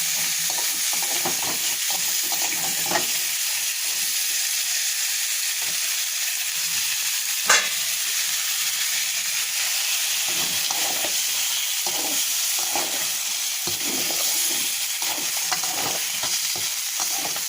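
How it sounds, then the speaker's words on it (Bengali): Vegetables, including drumstick, pointed gourd and potato, sautéing in spiced oil in a pan, a steady loud sizzle for the whole stretch with scattered scraping stirs and one sharper clack, no talking. "এবার দিয়ে দিলাম সবজিগুলো এবার ভালোভাবে কষিয়ে নিয়েছি"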